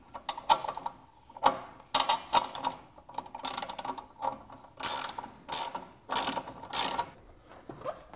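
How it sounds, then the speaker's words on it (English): A ratchet socket wrench tightens the front axle rod of a Sport Rider mobility scooter, giving short clicking bursts in an uneven rhythm, close and crisp, with brief quiet gaps between strokes. "Tighten the front axle rod using a 14mm socket and an 18mm wrench."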